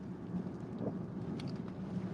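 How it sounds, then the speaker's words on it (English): Steady rain pours down during a dark thunderstorm, a dense, constant hiss with a low rumbling undertone and no voices. "you can see how dark it is, and I've got rain."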